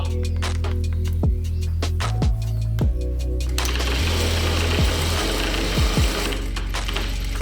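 A Jack A4E electronic industrial straight-stitch sewing machine runs in a rapid continuous stitching whir, with distinct clicks and thumps as the motor starts, stops and shifts speed.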